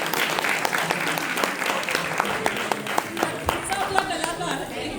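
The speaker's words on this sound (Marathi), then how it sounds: "या बाल कलाकारांसाठी एकदा जोरदार टाळ्या होऊन जाऊ" An audience at a Gudi Padwa children's dance event gives steady, lively applause for the child performers, many hands clapping together over five seconds with a faint voice beneath.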